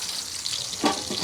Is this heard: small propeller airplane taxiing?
no